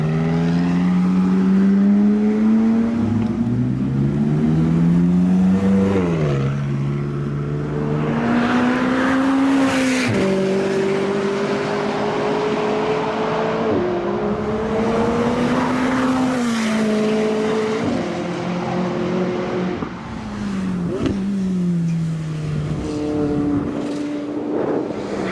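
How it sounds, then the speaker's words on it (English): A McLaren 675LT sports car accelerates hard through repeated gear changes, its engine note climbing loudly and dropping at each shift, close and continuous with no talk. "The McLaren 675 LT, they just look so amazing, and that driving experience"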